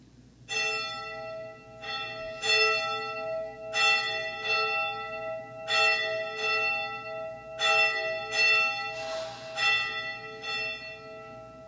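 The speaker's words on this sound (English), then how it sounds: "the ringing of the bell" A church bell rings repeatedly in slow, steady strokes, each tone ringing out and fading before the next, with a few overlapping strikes near the end.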